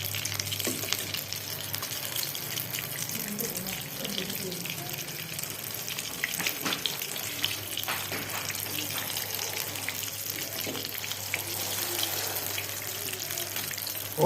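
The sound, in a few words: chicken shami kabab frying in a pan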